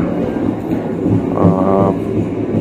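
A train waits at Tarik station for a crossing with the Logawa train, a steady rumbling rail drone heard from on board, with a brief tonal whine rising partway through.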